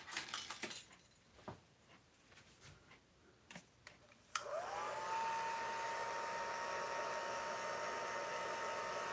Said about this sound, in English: our heat gun works really nice if you just put it on the lowest setting